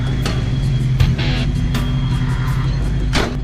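A 1K Ford Fox body car with a power problem rumbles close by with a deep, steady engine drone as it sets off, with a few brief clicks and knocks over the low hum.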